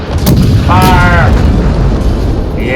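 Naval guns fire in the World of Warships game as a loud, sustained booming blast with a low rumble that fills the whole moment, and a voice is heard briefly partway through.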